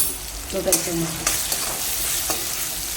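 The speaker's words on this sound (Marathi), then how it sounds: "आता मी टाकते हळद, धने जिरीची पावडर थोडीशी" Turmeric and coriander-cumin powder sizzling in hot oil while being stirred, a steady frying hiss with scraping stirs, and someone speaks briefly over it.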